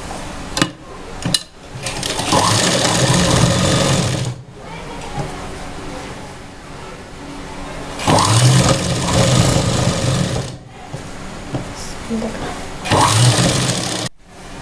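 A sewing machine stitches a folded strip onto the back of a blouse. It runs in three loud, sustained whirring bursts with brief pauses and clicks between them.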